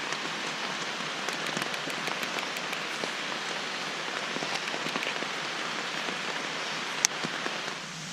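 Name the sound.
rain falling on a tent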